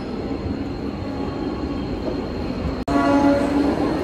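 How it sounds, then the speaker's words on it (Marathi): A Badlapur fast suburban local train rolls into the CST station platform, a loud steady rumble of wheels and carriages close by, with a brief cut before a humming tone continues under the noise. "12:29 Badlapur fast is coming on the platform"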